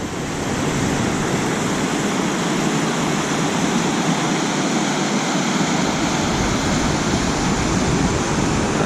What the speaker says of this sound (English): This is Little Pine Rapid.